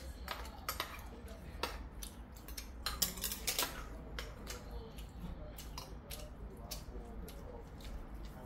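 Spoon stirring bibimbap in a bowl, close and quiet: irregular clinks and scrapes of metal on the bowl with soft squishing of rice and vegetables.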